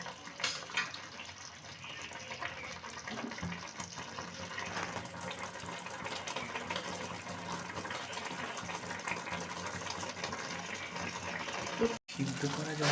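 Boiled water is poured into a pot of cooking pea greens, a steady gushing splash that runs continuously for several seconds at close range, with a voice speaking faintly under it.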